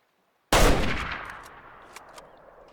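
Hunting rifle gunshot in the video game Way of the Hunter during a whitetail deer hunt, a single sharp loud report after silence, followed by a long fading rumbling echo and a few faint clicks.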